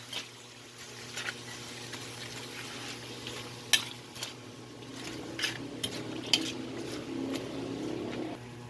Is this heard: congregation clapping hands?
no